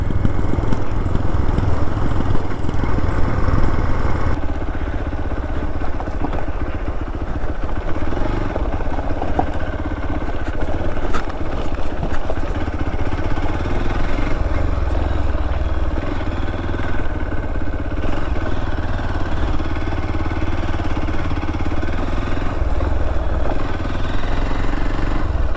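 A motorcycle ridden along a road near an abandoned dam, its mid-pitched engine droning steadily and close throughout, with some clatter and no talk.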